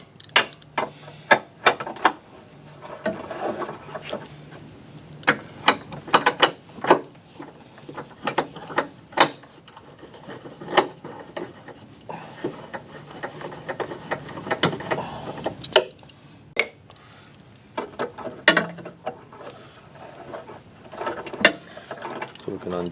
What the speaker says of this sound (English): Using the good trusty speed wrench.